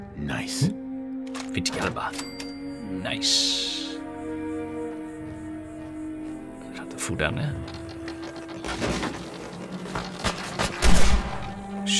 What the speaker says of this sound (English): Shots fired. Why the shots?